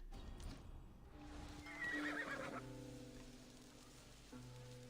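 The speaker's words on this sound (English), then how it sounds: "Now we can call our horse." A horse summoned in the video game Assassin's Creed Odyssey gives a clear whinny, followed by a few clip-clopping hooves against game music and ambience.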